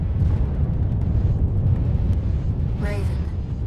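Heavy missile impacts in Armored Core 6 roll out as a continuous, dense rumble of explosions, loud and close, with a brief higher whine near the end.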